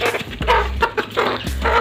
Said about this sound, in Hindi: सबसे बड़ी मुर्गी ये है मेरी